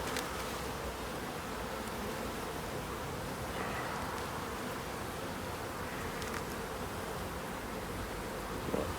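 Honeybees buzz steadily in an open hive, many young bees among them, a dense continuous hum that stays close and even throughout with no talking.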